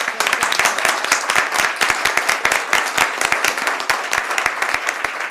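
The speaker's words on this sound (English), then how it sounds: "we're going to applaud you for your record" A room full of people applauds a girls basketball team at a city council meeting, dense steady clapping that carries on evenly throughout.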